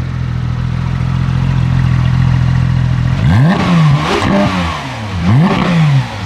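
A track-focused sports car engine blips and revs hard several times after a steady idle, each rise and fall loud and close with a mechanical clatter underneath.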